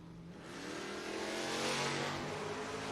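Door car drag race cars launch and accelerate hard down the track, a rising, sustained engine roar with building intensity, heard from a distance over a few seconds.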